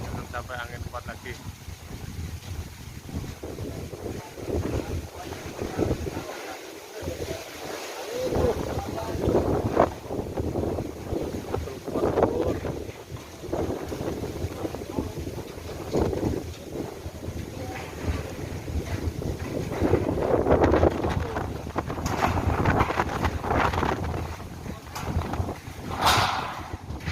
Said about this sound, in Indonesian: Ini saya pegang kamera pun sampai goyang-goyang ini kena angin ini.